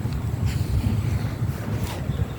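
Gusty, cold wind in Vietnam under gray skies buffeting the microphone, a loud, continuous low roar rising and falling in waves, with no voices.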